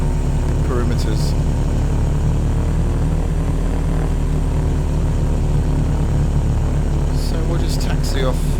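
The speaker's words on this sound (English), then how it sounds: "So we'll just taxi off the runway as quickly as possible." A propeller aircraft taxis in the Prepar3d flight simulator at a Manhattan, New York City airfield, its steady engine drone running loud and constant throughout with a voice talking over it.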